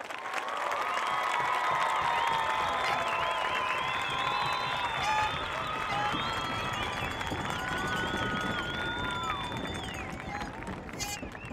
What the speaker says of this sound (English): let's please join me in giving them a big round of applause